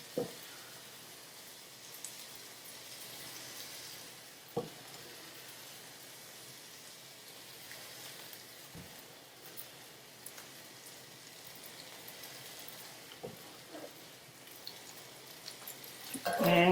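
Quiet, steady sizzle of undrained spaghetti slid into a pan on low heat, with faint crackles and a few soft clunks throughout.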